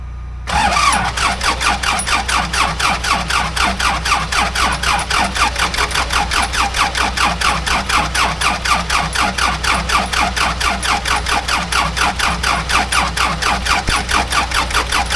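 A 1978 backhoe engine, out of use for decades and jump-started off a truck, cranks briefly and then catches, running loud and close with a steady, fast rhythmic chug for the rest of the stretch.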